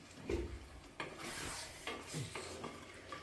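A spoon stirs mango pickle in a pot just after vinegar goes in, giving soft, quiet scraping and sloshing strokes in a loose rhythm up close.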